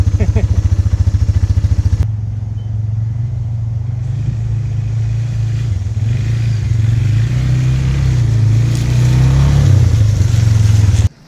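A four-wheeler ATV rides through woods on a rough trail. A rapid engine putter at the start gives way to a loud, steady rumble and clatter close by, which cuts off abruptly at the end.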